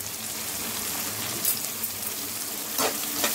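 A steady, close sizzle of something frying in a pan for coconut rice, with a few faint clinks and stirring sounds along the way.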